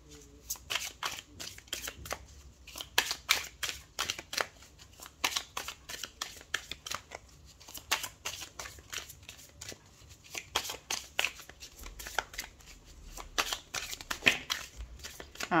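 Playing cards shuffled by hand for a French tarot-style reading, a steady run of crisp riffling flutters and paper flicks close up, repeating throughout with short pauses and no speech over them.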